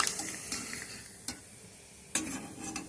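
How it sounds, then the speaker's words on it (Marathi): Sago papad frying in hot oil, a soft steady sizzle with a few sharp clinks and scrapes of a utensil against the pan, fairly quiet and close. "छान गरम झालेले आहे आता आपण याच्यात पापड टाकूया"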